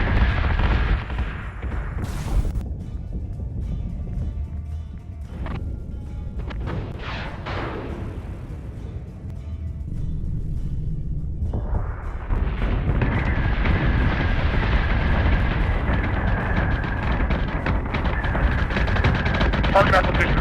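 Heavy ship guns fire in the Battlestar Galactica: Deadlock space battle game, with loud sustained booming blasts and rumbling explosions that continue through the whole stretch alongside a steady engine-like roar.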